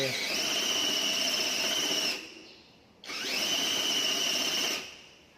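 An electric drill spinning a cycloidal robot-arm gearbox whines up to speed twice, each run lasting a couple of seconds with a high steady pitch before winding down; close and loud.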